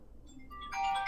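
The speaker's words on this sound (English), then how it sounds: "That's the phone ringing." A phone rings with a bright electronic tone that starts about two-thirds of the way in and grows louder over low background noise.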